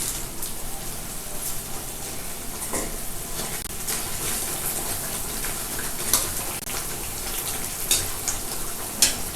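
A pot of kofta curry bubbles and sizzles steadily at close range, with a few sharp clinks near the end.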